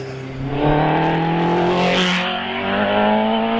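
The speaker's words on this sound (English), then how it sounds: "driving the Rover engine Pilbeam" A Pilbeam hillclimb race car with a Rover engine roars loudly past at the Prescott British Championship hillclimb. The engine note holds high and steady with slight pitch shifts as it accelerates.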